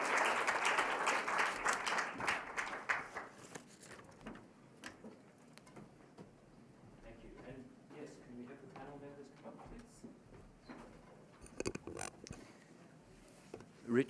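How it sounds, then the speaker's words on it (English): A panel audience at a World Health Assembly conversation on vaccination breaks into a loud round of applause for the speakers, which fades after a few seconds as voices take over and talk continues over light rustling. "let's give a round of applause to our speakers"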